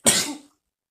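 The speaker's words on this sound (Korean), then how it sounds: "이건 잘못된 재채기의 습관입니다" A single short, sharp sneeze bursts out close and loud, then cuts off in silence.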